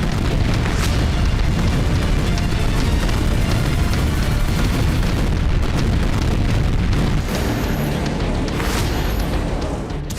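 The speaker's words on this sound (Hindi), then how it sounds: "चंद सेकंड में कई जगह धमाके, रात के अंधेरे में बारूदी धमाकों से निकलती आग" Rocket strikes during a Russian night attack near Luhansk: a dense, continuous roll of rumbling blasts and booms, loud and unbroken, with sharper bursts standing out from the barrage.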